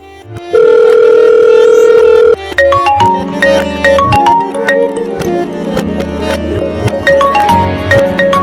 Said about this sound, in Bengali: ধরো নাও তোমার বিহান ফোন করেছে